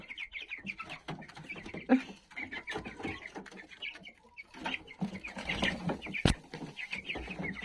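Cobb 500 broiler chickens kept in a large indoor room, clucking and chirping in a busy, continuous chatter at close range, with occasional louder squawks and faint talk in the background.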